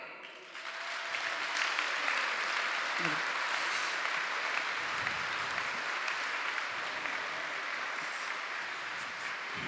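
A concert audience at a Carinthian folk music show applauds for a new ensemble taking the stage, sustained dense clapping that swells quickly and holds steady, with a voice briefly audible near the start.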